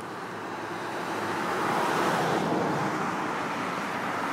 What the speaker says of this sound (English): Cars are heading up to the ferry at Earls Cove